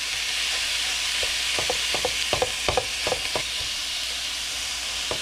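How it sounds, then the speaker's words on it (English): Ground pork frying in a pan for a stir fry, a steady close hiss and sizzle with a scattering of scraping spatula knocks in the middle, no voices. "we're just going to let it brown undisturbed for a few minutes"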